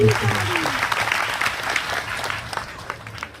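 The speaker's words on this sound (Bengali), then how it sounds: "ওনার জন্য জোরদার তালি" Audience at a devotional discourse applauding a questioner, a dense burst of clapping that starts loud and gradually thins out, with a voice speaking briefly at the start.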